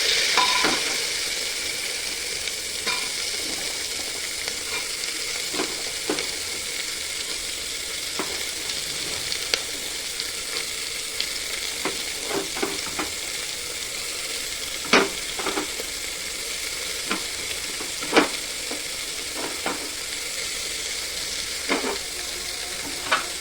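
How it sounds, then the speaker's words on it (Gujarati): Onions and mixed vegetables frying in oil for vegetable pulao, a continuous close sizzle broken by irregular clinks and scrapes of a spoon stirring the pan, with no voices. "જે પણ વેજીટેબલ કટ કર્યા છે ને બધું નાખી દેવું અંદર."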